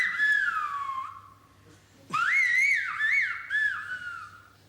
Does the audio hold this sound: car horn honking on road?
no